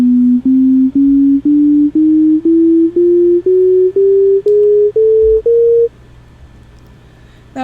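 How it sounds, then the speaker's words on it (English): Twelve steps of a Western equal-tempered chromatic scale played as pure electronic tones, each short note slightly higher than the last in an even rhythm, clear and alone over a faint hum. "we have divided that ratio into 12 logarithmically even steps."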